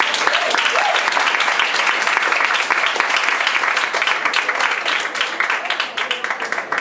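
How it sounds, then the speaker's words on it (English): An audience applauds steadily for several seconds, a dense wash of clapping that stays loud throughout. "huge round of applause"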